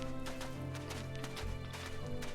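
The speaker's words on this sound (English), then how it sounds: "I like how it sounds like it's galloping, like a horse." Galloping hoofbeats in the video game The First Tree, a quick rhythmic patter of thuds repeating steadily over a layer of ambient music.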